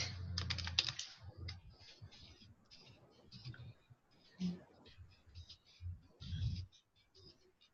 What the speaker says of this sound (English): I am going to write it in the chat.